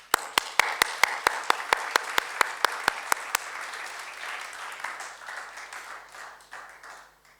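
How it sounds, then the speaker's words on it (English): A few sharp, evenly spaced claps open into a burst of audience applause at a festival author reading in Pristina, fading gradually, with no voices. "Please, one applause for our first author tonight."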